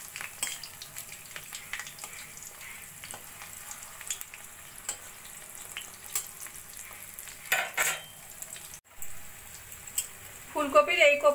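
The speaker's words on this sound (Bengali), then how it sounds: "ফুলকপির এই কোপ্তাগুলো আমার ভাজা হয়ে গেছে।" Cauliflower kofta balls fry in hot oil with a steady sizzle, broken by scraping stirs and turning of the balls, and a brighter crackle of spattering rises near the end.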